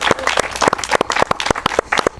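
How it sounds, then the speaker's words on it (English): An audience applauds at a live sports talk event, dense clapping filling the room steadily and loudly without letup. "I applaud once again"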